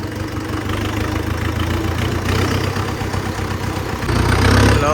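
A tractor engine idles close by, a steady low diesel chug with a knocking pulse that holds even and then grows slightly louder near the end, with no voices over it.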